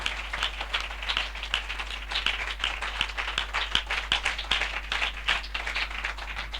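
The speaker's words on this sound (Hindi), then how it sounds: "हम जोरदार तालियों से उनका स्वागत करें।" Loud clapping from a church assembly crowd welcoming listeners, a continuous rapid patter of many hands that pulses slightly and keeps going throughout.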